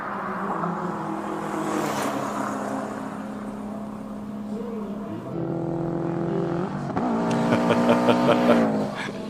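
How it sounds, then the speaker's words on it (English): A hillclimb race car at the Simola Hillclimb competition revs hard up the course, engine pitch climbing and dropping through several gear changes before a loud, close final surge. "when you listen to the cars, Arnie, you can hear the sort of gearing, what the people are doing, where their foot is on the accelerator."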